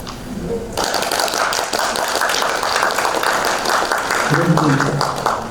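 Applause from a political rally audience of supporters and public officials, broad dense clapping with a loud voice over the crowd and a brief quieter start.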